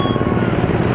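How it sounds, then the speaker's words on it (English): A loud, close helicopter roar with a rapid rhythmic thudding from the rotor fills the brief moment, dense and low-pitched. "There's a chopper."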